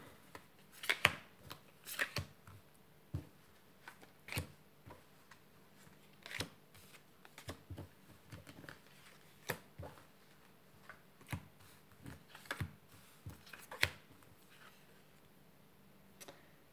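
Tarot cards shuffled by hand before a reading, a long run of crisp irregular flicks and snaps with quiet gaps between, close up and without speech.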